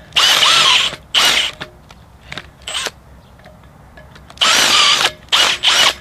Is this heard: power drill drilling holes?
yes